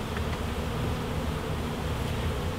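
Bees hum around a single brood chamber beehive, a steady, dense buzz filling the whole stretch at close range with no pauses and no voices.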